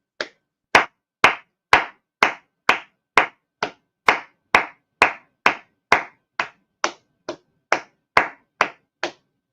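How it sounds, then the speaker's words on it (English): A lone pair of hands claps about twenty times in a brisk, even rhythm, each crack crisp and near with silence between, applauding Lady Justice after the Bryan Kohberger plea hearing ends. "but we're gonna give a round of applause to Lady Justice."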